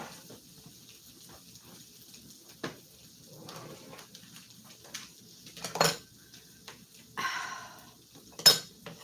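A stiff spatula smushing sticky fig cake mixture in a pan, giving sporadic scrapes, soft squelches and a few sharp clinks against the dish, close up with quiet gaps in between.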